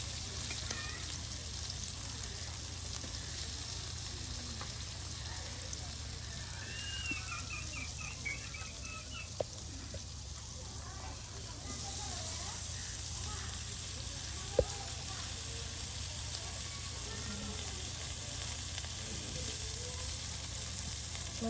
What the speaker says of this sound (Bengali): আর অন্যদিকে এই যে পেঁয়াজ রসুন সব কিছু ভেজে নেওয়া হচ্ছে। আলু কুচিগুলোও দিয়ে দিতেছি।